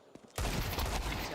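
Rapid gunfire bursts erupt in a Counter-Strike 2 match at an esports grand final, a sudden dense barrage after a quiet moment, loud and continuous, with commentary voices underneath.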